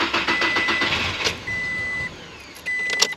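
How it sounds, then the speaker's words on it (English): A Toyota Tacoma engine cranks for a long stretch after its fuel rail pressure has been purged, giving a steady close mechanical whir with a thin whine and a few louder bursts. No one speaks. "we're gonna have an extended crank right now"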